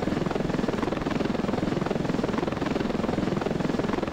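A military helicopter in the Ravenfield battle simulator game spins up for takeoff, a loud, steady rotor thump with rapid regular blade chop over a dense engine roar throughout.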